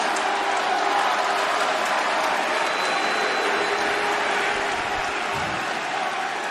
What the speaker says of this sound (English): I hear boos, but I also hear clapping